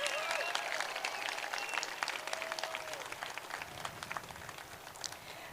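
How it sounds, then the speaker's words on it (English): An audience at a middle school moving-up ceremony applauds the students, dense steady clapping with some crowd murmur, heard from a moderate distance and easing slightly toward the end. "Can we get a round of applause for our beautiful students?"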